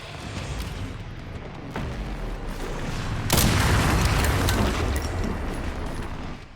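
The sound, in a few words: zombies firing guns and rocket launchers in video game Resident Evil Requiem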